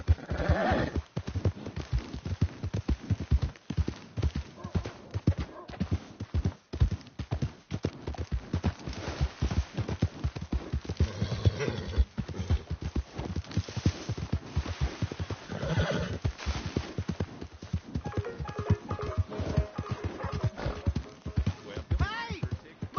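Rapid hoofbeats clatter in a galloping rhythm, with a horse whinnying and people talking over the commotion, in the video game Red Dead Redemption 2.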